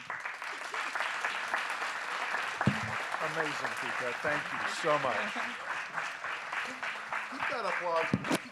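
Audience applause for a guest named Kika at a cannabis industry forum, a steady broadband clatter running the whole time while a host speaks over it.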